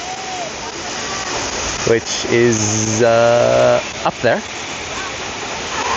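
A big waterfall on a hike in Papua New Guinea gives off a steady, loud rush of falling and splashing water that runs through the whole clip, with someone talking over it nearby.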